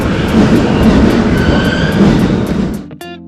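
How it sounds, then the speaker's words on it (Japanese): Heavy, close rumble of an Azusa limited express train at Takao Station in Japan, steady and loud, ending in a sudden drop with a rapid electronic chime pattern. "特急あずさが止まってます"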